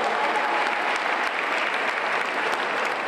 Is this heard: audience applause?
yes